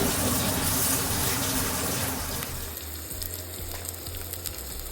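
Sliced onions, two of them separated into rings, drop into hot oil with cumin, setting off a loud, steady broadband hiss that eases into a quieter crackle as the frying settles.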